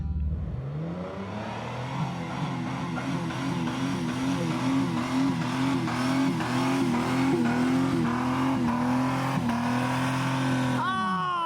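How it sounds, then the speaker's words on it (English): A daily-driver car engine held near full throttle in first gear, revving up and bouncing repeatedly off the rev limiter in a stuttering rhythmic pattern, loud and close, ending with a brief rising whine. "I'm gonna rev limiter it"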